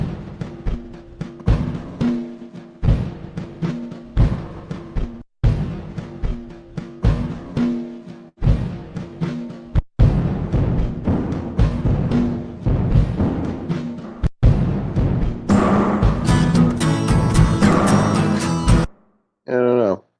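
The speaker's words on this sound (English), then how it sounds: "I made this drum loop the other day." Layered drum loop from a live album-production session, repeating a punchy kick, snare and hi-hat pattern with brief gaps where it restarts, then a denser, fuller section near the end before it stops.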